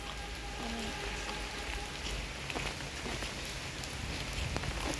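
Light rain falls steadily in a continuous soft hiss, with scattered drops ticking on nearby surfaces and no voices.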